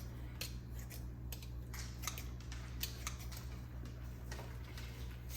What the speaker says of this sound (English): I'm just going to use my scissors to cut up the artichoke hearts